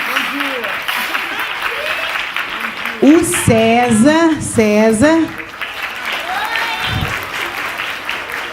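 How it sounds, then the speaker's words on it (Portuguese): Audience clapping at a Congado talk fills the clip under a voice speaking, with a louder stretch midway where singing or chanting rises over the steady patter of hands. "bater palmas para ele"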